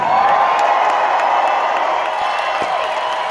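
A theater audience at a concert in St. Louis cheers and applauds for a backing vocalist, loud and sustained crowd noise with scattered whoops and claps from near and far.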